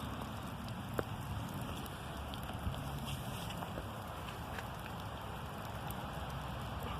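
Rain during a winter storm over the Christmas and New Year period, a steady low wash of falling water with a few sharper drips and taps, fairly faint and with no voices.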